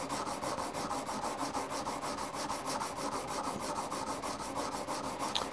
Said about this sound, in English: because I want to take off metal here, because that tip is broken, I'll use the stronger stone here